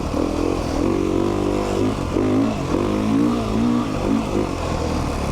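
A 2019 Beta 390 RR Race Edition dirt bike engine revs steadily and loudly up close, its pitch rising and falling in repeated throttle surges over a continuous exhaust drone.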